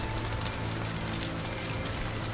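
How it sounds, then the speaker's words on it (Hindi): Heavy rain pours down on a dark night, a steady, dense hiss of drops beating on surfaces that stays loud and even throughout, with no voices. "जोरों की बारिश हो रही थी।"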